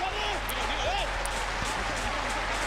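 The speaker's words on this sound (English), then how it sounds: "that's got the crowd on their feet again here in Paderborn" Football crowd noise in Paderborn stadium at a Germany vs Israel under-21 Euro qualifier, a steady loud roar of cheering and applause, with a commentator's voice running over it.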